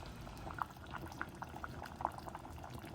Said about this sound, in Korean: 당면은 5분에서 8분 정도 완벽하게 익을 정도로 삶아주시면 돼요